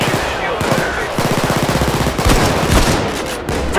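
Rapid automatic gunfire in the heist shooter Payday 2, loud and dense bursts of rattling shots in quick succession, with game noise and faint voices mixed underneath.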